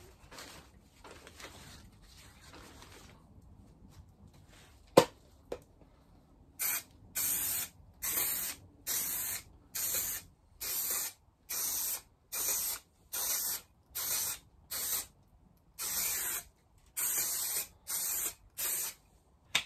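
An aerosol can sprays adhesive onto foam for a Lotus Elan +2 car part in a quiet workshop, the loud hissing coming in about a dozen short, evenly spaced bursts after a sharp click.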